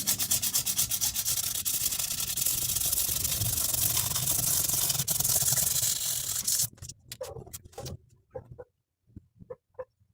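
Guitar frets are sanded by hand with sandpaper, a close, steady, rapid rubbing scratch for about six seconds, then a few short separate strokes before stopping.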